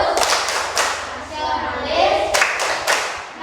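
Schoolchildren in a classroom doing the rhythmic PPK clap, crisp group claps in a patterned sequence, loud and close, with children's voices chanting between the beats.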